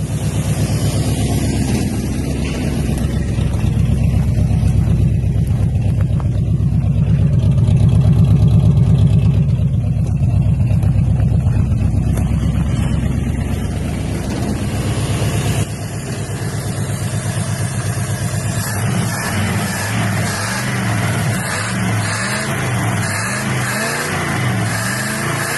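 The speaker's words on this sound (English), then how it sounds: "I do actually have this motor running" The original 350 V8 in a Buick Skylark runs, rumbling and revving up to a louder peak before settling back to a rough, steady idle, close and loud throughout.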